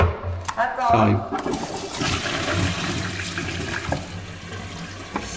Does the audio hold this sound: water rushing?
yes